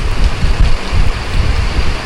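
Heavy rain pours down steadily outdoors in a dense, even rushing hiss that is loud and close, with no talking.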